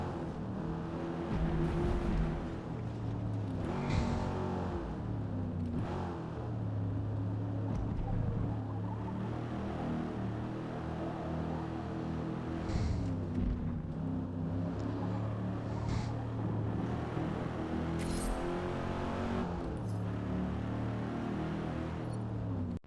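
An AMC Javelin AMX muscle car with a 6.5 litre V8 drones steadily in a racing game at the Nürburgring, its engine note rising and falling through shifts beneath continuous commentary.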